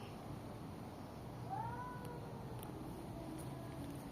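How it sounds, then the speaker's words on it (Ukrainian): Cats caterwauling in a residential courtyard, a drawn-out yowling call rising and falling over steady background rumble, moderately distant and fairly faint with no talk. "оглядається на тих котів, що співають"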